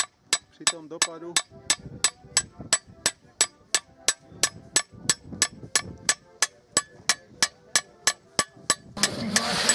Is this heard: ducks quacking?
no